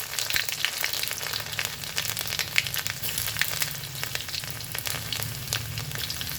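Garlic, cumin and mustard seeds fry in hot oil for poha, a dense, steady crackling sizzle with faint stirring scrapes throughout and no speech.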